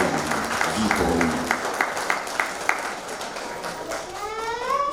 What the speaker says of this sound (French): j'aimerais que l'on applaudisse très fort